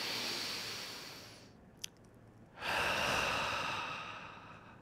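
A single full, deep breath, a long breathy inhale followed by a slow sighing exhale, close and alone in a quiet room, closing a guided mindfulness practice.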